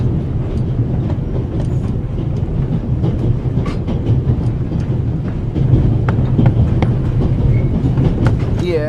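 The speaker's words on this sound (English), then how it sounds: "The noise on this train is driving me crazy." Orient Express train in the video game The Raven, rolling through the Alps: a steady, rumbling rail drone with rhythmic clickety-clack of the wheels, heard continuously and fairly loud.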